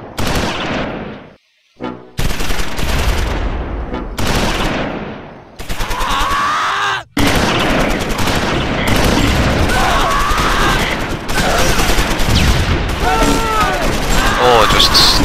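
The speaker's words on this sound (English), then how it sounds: "And they've opened fire on the scouts." Dense gunfire in a Close Combat 5 Battle of the Bulge battle, rapid machine-gun bursts and rifle shots almost continuously with brief gaps, loud and close, with someone talking over it.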